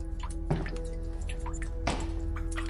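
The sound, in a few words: water dripping sound effect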